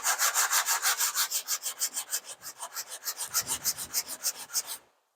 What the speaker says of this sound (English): So all I've done is I've glued a little bit of sandpaper to this stick.